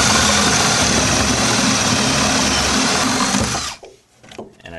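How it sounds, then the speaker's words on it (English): A power drill runs continuously and loudly as it cuts a hole through a wall with wood studs during an RJ45 computer jack installation, then stops abruptly and leaves faint handling noise. "I'm going to take my drill"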